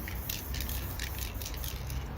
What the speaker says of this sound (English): it's good to give distance between the spray